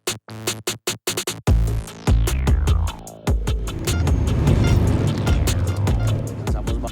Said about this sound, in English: I'm in the car with Alexei, the radio reporter